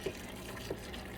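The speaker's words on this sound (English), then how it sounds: "you're gonna pour it in the pan dripping." Hot water poured into air fryer pan drippings from fried chicken makes a steady, close, watery rush with a faint gurgle, continuous and even throughout.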